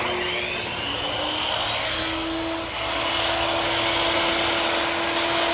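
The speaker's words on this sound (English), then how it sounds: "First thing we're going to do is cut all these into furring strips." A power saw rips rough-cut lumber into furring strips for board and batten siding at a cabin, giving a steady, loud, continuous whine and roar with no pauses or talk.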